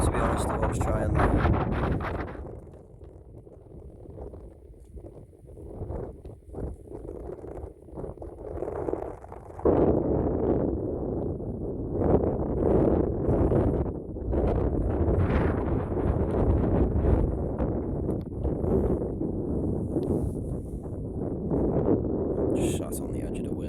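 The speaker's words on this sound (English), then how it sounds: "High Crags a tad on the windy side" Wind gusts buffet across an exposed fell top at High Crags in the Lake District, roaring in uneven surges, while someone talks intermittently over the blustery noise.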